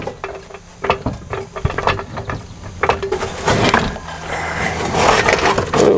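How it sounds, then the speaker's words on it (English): A rapid pump floor jack lifts the frame of a 2003 GMC 2500HD truck with repeated ratcheting clicks and mechanical clunks from quick pump strokes, then a denser grinding, creaking strain as the load rises, close and fairly loud. "I'm really happy to have this rapid pump now. I don't have to sit here and jack it up forever."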